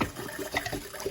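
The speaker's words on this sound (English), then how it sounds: "Water's on." Tap water runs through a filter fitted to a faucet, a steady close splashing flow with slight bubbling texture, no voices over it.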